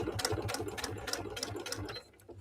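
A sewing machine stitching around the edge of a fabric bag, running in a steady rapid needle chatter for two seconds before slowing and fading.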